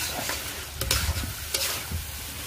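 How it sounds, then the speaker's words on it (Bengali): Potatoes stir-fried in a pan, a close bright sizzle broken by a few sharp scraping strokes of a spatula over about two seconds, with no talking. "আলুটাকে এখন ভালো করে একটু কষাই নেব"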